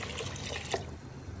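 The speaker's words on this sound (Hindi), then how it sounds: "इसको आधे घंटे के लिए हल्की आंच पे छोड़ेंगे पानी डाल के।" Water is poured into a pot of lentils and tinda simmering on low heat, a short, soft trickle and splash.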